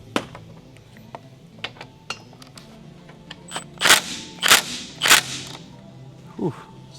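Impact gun loosening a nut on a Can-Am X3, heard as three loud sharp rattling bursts in quick succession after scattered clanks of tool handling, with a brief voice near the end.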